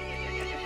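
A brief, faint horse whinny from the video game Resident Evil Village, dense and slightly synthetic in character, lasting under a second with no pauses.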